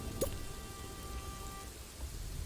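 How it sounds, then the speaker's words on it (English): Steady rain falling in a farming and building video game, a soft continuous patter with scattered drips, moderately quiet and without voices. "It's now raining."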